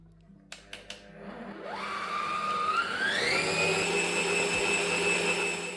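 An electric mixer whips custard cream for a strawberry meringue cake: a few light taps at first, then a steady motor whine that rises in pitch and holds as the beaters spin through the cream, close and loud.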